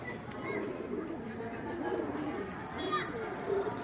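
Pigeons in a pigeon house coo softly in low, rolling repeated calls, faint and close, with background chatter and someone talking over them.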